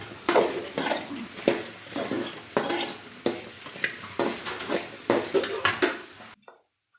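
Okra being stir-fried for a coconut-rice breakfast side, with a spatula scraping and stirring repeatedly against the pan over a steady sizzle, the strokes coming in an uneven rhythm, close and fairly loud, with no voices.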